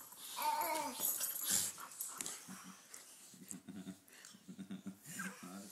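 Dogs whimper and whine close by in a quiet room, in short, uneven bursts with soft breathy sounds between them.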